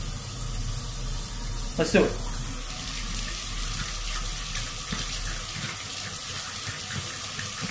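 Hot water gushes from a tap into a sink, a continuous close splashing flow with a brief louder clatter early on and someone speaking over it.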